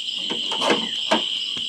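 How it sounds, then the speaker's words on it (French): A ratchet wrench tightens fully on a front shock absorber with compressed springs on a Peugeot SW 90 hp HDi, giving close, irregular clicks over a steady high metallic ring. "mon cliqueur et je vais serrer à fond"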